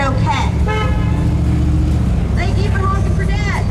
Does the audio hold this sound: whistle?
no